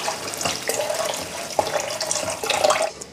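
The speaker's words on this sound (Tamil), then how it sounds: "இப்போ இந்த புளி தண்ணியும் இதிலே ஊற்றிடலாம்." Tamarind water poured into a pan of simmering kuzhambu in a home kitchen, a close, steady splashing pour with brief louder spurts, no voices.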